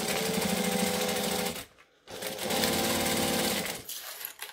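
A sewing machine stitches a seam with backstitching, running loud and steady, pausing briefly, then running again before stopping.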